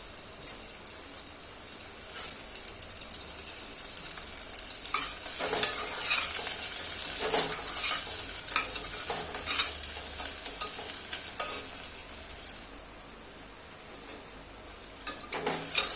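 Onion sizzles in a little oil in a pan, a continuous bright hiss held steady throughout, with occasional scraping stirs and soft utensil clinks, close up and without any talk.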